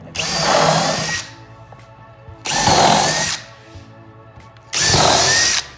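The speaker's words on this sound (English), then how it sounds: "now I know that I'm gonna have to pre-drill here, and I'm gonna have to pre-drill here" A power drill pre-drilling holes with a countersink bit into trim, three separate loud whirring bursts of about a second each, separated by short quiet pauses.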